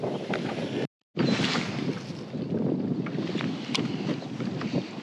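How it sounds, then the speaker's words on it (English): Wind gusts across open water while fishing in late winter, roaring and buffeting the microphone in a rough, continuous rush, with a brief dropout near the start. "And there's the wind right now, it's picking up."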